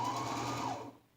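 A sewing machine runs steadily while stitching a toss pillow, a close whirring hum that holds for about a second, then slows and stops.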